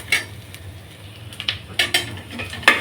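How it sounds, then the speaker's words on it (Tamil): Onions sautéing in a pan for spinach biryani, with close metal spatula scrapes and clinks against the pan over a low sizzling background, in irregular bursts, no speech. "நல்லா வதங்கி வருதா வெங்காயம்?"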